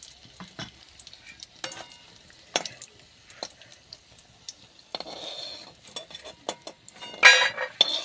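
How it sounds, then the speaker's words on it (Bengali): Lentil boris frying in hot oil in a wok, with a soft sizzle broken by repeated scrapes and clinks of the spatula against the pan, louder metal clatter near the end, close and without talk. "বড়িগুলো আমি ভেজে নেব।"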